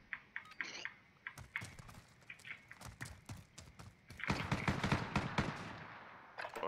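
Rapid gunfire in the video game Modern Warfare, dense bursts of sharp shots with a few gaps, growing heavier and continuous toward the end.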